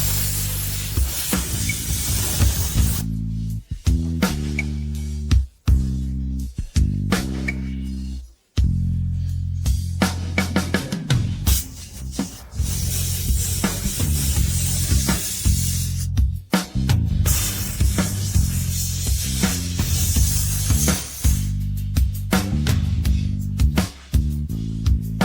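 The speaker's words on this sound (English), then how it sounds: "Start spraying high concentration anti-scratch varnish." High-concentration anti-scratch varnish is sprayed from a fogger onto a Lexus LS460L car body in long continuous hissing bursts, separated by short breaks, loud and close throughout.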